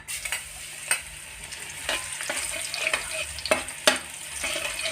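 Garlic stir-fried in a hot pan gives a continuous crackling sizzle, broken by sharp scraping strokes of stirring at irregular intervals, close and fairly loud with no talking.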